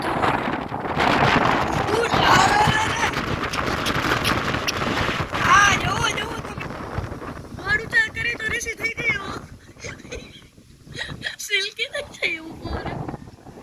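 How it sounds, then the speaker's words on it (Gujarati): Strong wind gusting before rain buffets the microphone in loud uneven roars, easing and returning in bursts, while people talk nearby over it. "આ પવન હમણાં વરસાદ આવશે"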